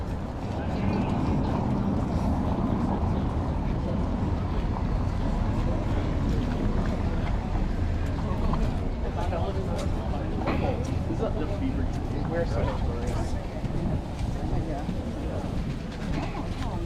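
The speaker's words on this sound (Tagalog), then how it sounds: "sakay kami ng bangka" A steady rumble of a motorboat on San Francisco Bay with wind buffeting the microphone, continuous throughout, with faint voices mixed in.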